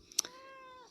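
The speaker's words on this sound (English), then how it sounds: "Yes, and some meowing too." A single cat meow, close and fairly soft, with a brief rustle just before it.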